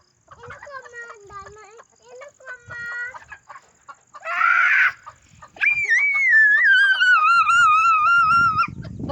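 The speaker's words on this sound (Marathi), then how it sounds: "कॉक आहे कॉक कॉक कोंबडा" A rooster on a home farm gives a run of short clucks, then a long, loud crow close by. There is faint background noise between the calls.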